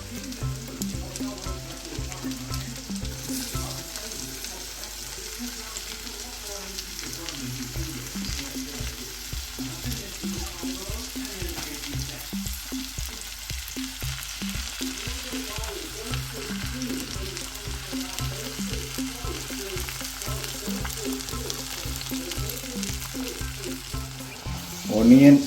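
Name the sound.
chopped onions frying in a pan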